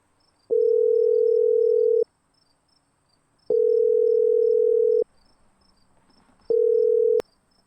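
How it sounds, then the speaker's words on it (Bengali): A telephone call being placed in a Bengali romantic audio story: three long, steady electronic tones with even pauses between them, the last one cut short by a sharp click, loud and alone. "পারমিতা দীপকে ফোন করে।"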